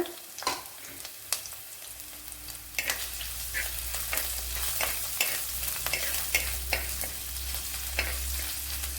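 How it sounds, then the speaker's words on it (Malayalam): About ten garlic cloves and a small piece of ginger fry in a pan for a Kerala-style curry, giving a steady close sizzle with repeated light scraping and clicking of a stirring utensil. "ഇനി ഇതിലേക്ക് ഒരു 10 വെളുത്തുള്ളി അല്ലി ഇട്ട് കൊടുക്കുക. അതുപോലെ ചെറിയൊരു പീസ് ഇഞ്ചിയും അതും ഇട്ട് കൊടുക്കുക."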